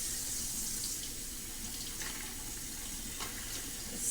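Water running and draining in a kitchen sink as thawed shrimp are rinsed, a steady close hiss and splash with a few brief clinks, no talking.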